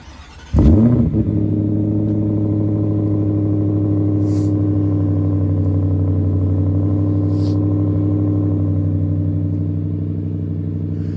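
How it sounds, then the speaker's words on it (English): A 2025 Ford F-150 Raptor R fires up on a cold remote start, opening with a sharp crank and bark before settling into a loud, deep, steady idle burble through its dual exhaust. "So as you can hear, with that Raptor R package, you are going to get upgraded exhaust."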